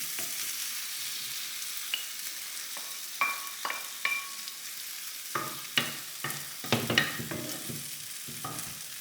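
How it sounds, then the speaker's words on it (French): A vegetable tortilla fries in a pan with a soft, continuous sizzle, broken by scattered sharp clicks and scrapes as it is turned over; close and fairly quiet, with no voices. "je vais la mettre dans l'autre sens pour que la tortilla soit bien aussi bien cuite de l'autre sens"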